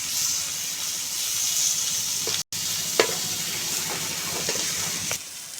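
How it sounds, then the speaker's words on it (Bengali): Tomato stir-fried in a pan sizzles steadily, with occasional scraping stirs and clicks of a utensil, a brief dropout partway, close and moderately loud with no talking. "এইভাবে কিছুক্ষণ একটু নেড়ে চেড়ে টমেটোটা ভেজে নেব।"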